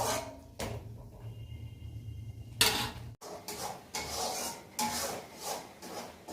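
Lote fish cooked with eggplant is stirred and fried down in a pan, with repeated scraping and rubbing strokes of a utensil against the pan in an uneven rhythm, close and free of talk.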